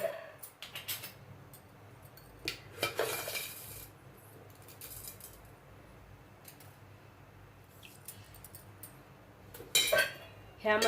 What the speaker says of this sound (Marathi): ह्यामध्ये एक चमचा साखर घालते